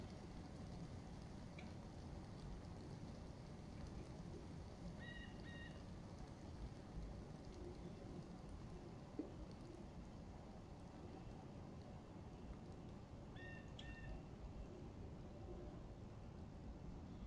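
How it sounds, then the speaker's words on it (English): Steady rain falls across an outdoor scene in the survival game DayZ, a constant hiss of drops with no thunder cracks standing out; a couple of faint high chirps drift in the distance, and no one speaks. "Just let this rain pass."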